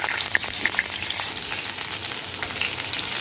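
Pieces of pointed gourd frying in hot mustard oil in a wok, producing a continuous close crackling sizzle with small pops scattered throughout and no voices.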